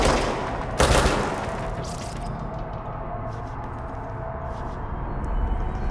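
Gunfire in the video game Control, a loud sharp shot near the start rising out of a steady roar of combat noise, with further fainter crackles scattered through a dense background.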